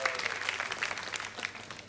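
Applause for a contestant named Fernando Viergo at a tribute show, a steady dense patter of many hands clapping at moderate volume throughout.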